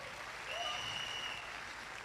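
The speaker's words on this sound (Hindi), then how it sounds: "जोरदार ताली" Faint applause from a crowd at an event, a steady wash of clapping that swells a little in the middle and carries on throughout, with some faint other sounds over it.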